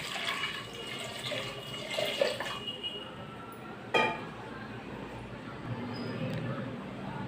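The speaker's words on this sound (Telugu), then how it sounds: "తగినన్ని వాటర్ని కూడా పోసుకోవాలి" Water pours steadily into a pot of cucumber and tomato dal with a continuous splashing rush, a couple of small knocks, fairly close and moderately loud.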